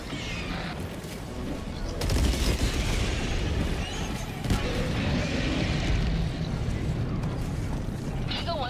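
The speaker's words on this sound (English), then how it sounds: "Requesting air support. I'm bombing it." An air support bombing strike in Helldivers 2 sets off heavy booms and rolling blasts that swell and persist across the clip, with player voices talking over the explosions.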